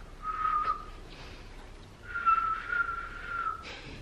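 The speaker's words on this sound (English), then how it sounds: "I can't whistle, especially with the chocolate in my mouth." A person with chocolate in their mouth attempts to whistle, producing two thin, wavering whistle tones with breathy gaps between them, faint and close.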